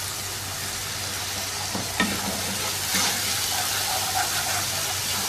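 Onion, tomato paste and garlic-ginger paste sizzling steadily in a pan for a mutton dish, a loud continuous fry with a couple of brief stirring scrapes, no talking.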